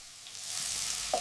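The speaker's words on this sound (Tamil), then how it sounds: "நறுக்கிய வெங்காயம், பச்சை மிளகாய் கொதிக்கும் எண்ணெயில போட்டு நன்றாக வதக்க வேண்டும்." A steady, close sizzling hiss of chopped onions and green chilies frying in hot oil, with a brief clink of a utensil near the end.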